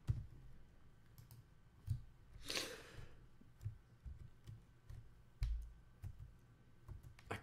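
Quiet, scattered clicks and taps on a computer keyboard, a few isolated keystrokes spaced irregularly with a soft breathy rustle in between, faint and close by.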